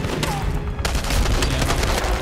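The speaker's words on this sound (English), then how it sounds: "This is definitely a case of everything shooting at me" Heavy gunfire in the video game Enemy Front comes as a loud, dense barrage of overlapping shots and bursts that continues without a break.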